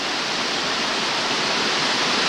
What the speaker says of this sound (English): Buttermilk Falls pass through this gorge, and it's quite a huge complex